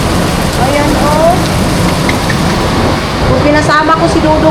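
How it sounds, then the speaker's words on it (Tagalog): Heavy rain pours steadily and loudly on surfaces, a dense continuous roar with faint distant voices and birds underneath. "Ang lakas ng ulan, day."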